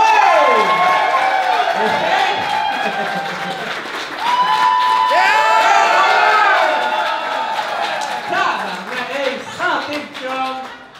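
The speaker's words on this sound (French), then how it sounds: "Je veux qu'on donne un tonnerre d'applaudissements pour Orange Le Sort du bord" A live podcast audience in Quebec breaks into loud, sustained applause mixed with whooping, sliding cheers and shouts, filling the room almost nonstop before thinning slightly near the end.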